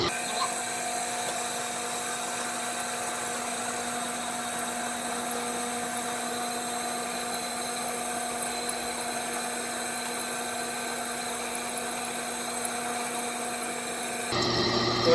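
A Matco hyperstep drill bit boring into very hard steel gives a steady high-pitched whine that holds for a long stretch under strong pressure, then changes abruptly at the end.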